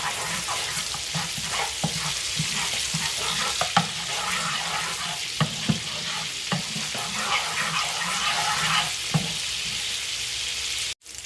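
Garlic cooks in butter in a pan, giving a steady broadband sizzle across the whole stretch with scattered small pops and stirring clicks, close and continuous, alone without talk, then cutting off abruptly at the very end.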